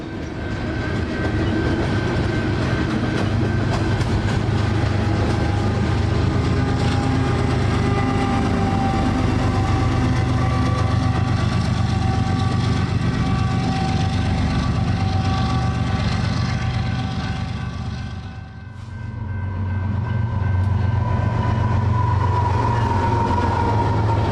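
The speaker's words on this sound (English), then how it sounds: "The second engine on this train, BNSF 107, is notable for being a wide cab version of a GP60." A BNSF freight train rolls past with its second unit, a wide-cab GP60 locomotive, giving a loud, steady rumble and engine drone with clanking railcars that dips briefly before continuing.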